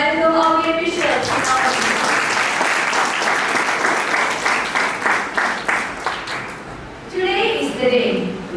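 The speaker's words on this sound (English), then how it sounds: "Let's give a big round of applause to welcome our dear Bishop." An audience applauds to welcome a bishop at a solemn religious ceremony, steady clapping that thins toward the end before a voice speaks over it.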